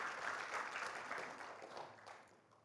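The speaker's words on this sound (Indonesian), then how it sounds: "Kasih tepuk tangan buat Firman." A church congregation at a Sunday service gives a short, faint round of applause that gradually tapers off over a few seconds, heard alone without voices.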